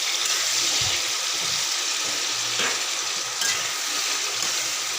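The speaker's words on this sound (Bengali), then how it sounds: "কালো জিরা কাঁচা লঙ্কা ফোড়ন দিয়ে আর বেগুন দিয়ে সাঁতলে নিচ্ছি।" Eggplant sautés in hot oil tempered with nigella seeds and green chilli for a thin curry with hilsa, giving a continuous loud sizzling hiss with a few soft low knocks of stirring.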